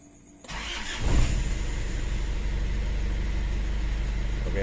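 An Isuzu Panther diesel engine cranks and catches after a quiet moment, settling into a steady rumbling idle heard close by, with no speech.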